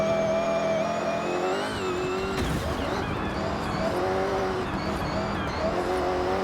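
A De Tomaso Pantera GT5 accelerates in the Forza Horizon 6 racing game, its engine droning loud and steady with rising harmonic tones throughout. Brief tire squeal is mixed in as the touchy car is driven.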